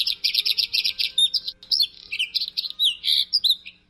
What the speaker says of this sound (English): The bird is the blue throat,